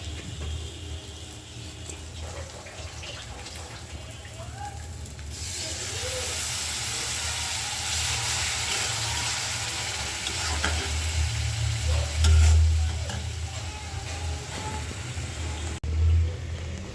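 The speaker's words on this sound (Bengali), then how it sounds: "আমি হালকা পরিমাণে একটু জল দিব যাতে শুটকি মশলাটা শুটকির সাথে ভালো করে মিশে যায়।" Water is poured into a hot pan of sizzling dried fish masala and stirred, sending up a loud hiss of steam and frying that swells and stays strong, with a scraping spoon throughout.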